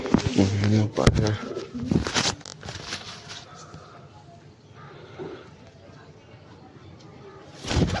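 Several nearby pigeons give a burst of throaty coos at the start, then the calls thin to faint murmurs over a quiet background before a short rustle at the end.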